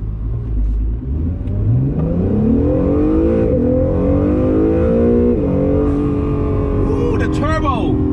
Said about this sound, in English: Ooh, the turbo.